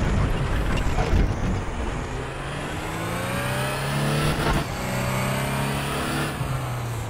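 Audi R18 TDI race car in R3E at the Nürburgring GP circuit, engine revving and rising through gears with repeated upshifts, loud and continuous, heard alone.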